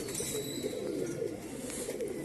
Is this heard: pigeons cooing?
yes